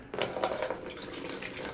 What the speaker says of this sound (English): So we have some hot water right here next to us that I'm afraid is gonna be super hot to pour.